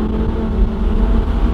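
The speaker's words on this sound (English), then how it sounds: "V10s just have such a particular sound." An Audi R8 Spyder's V10 engine gives a steady, loud, low drone while cruising on the road, a brief continuous rumble heard alone without talk.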